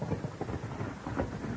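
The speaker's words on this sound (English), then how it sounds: "A low roll of thunder came. It was far off, only a rumble" Thunder rumbles low and distant beneath the patter of rain in a night storm over a seaside cottage, a soft, rolling murmur with no voices.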